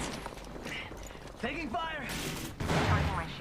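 Gunfire in the video game Apex Legends, quick bursts of shots rattling under a French-speaking player's voice, with a louder burst near the end.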